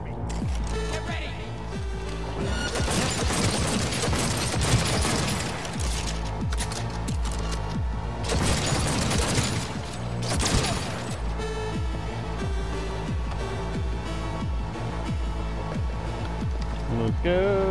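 Cyberpunk 2077 firefight: rapid, sustained bursts of game gunfire and booms over a steady backing of game music, with the loudest volleys clustered in the middle.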